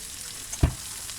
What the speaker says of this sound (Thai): ทั้งผัดทั้งทอดในเวลาเดียวกันค่ะ